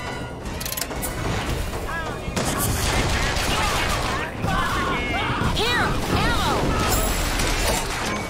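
Dense gunfire fills a BioShock Infinite fight: loud overlapping shots and bursts, with chaotic combat noise and voices shouting over it.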